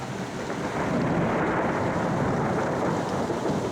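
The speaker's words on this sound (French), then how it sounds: "la montagne résonne de l'écho de l'orage" Thunder from a storm rumbling and echoing across mountains, a broad, continuous low roll that swells early and holds steady, with faint rain-like hiss beneath.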